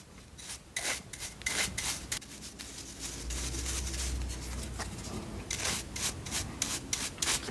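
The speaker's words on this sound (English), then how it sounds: "which is a grout cleaner, and you got grout in this groove here. You could take this and you could go like this." A grout cleaner scrapes grout out of a tile groove with a steady, close, quiet rasping rub that moves back and forth in quick strokes for several seconds, with no talking.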